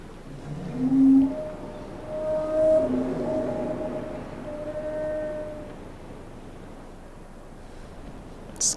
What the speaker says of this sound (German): Das klingt wie ein Wal.